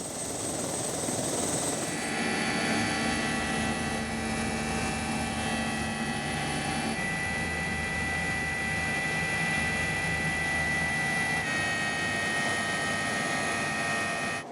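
A civil security rescue helicopter drones steadily overhead in the high mountains near Chamonix, its rotor and engine a loud continuous roar with no voices, holding constant for the whole stretch.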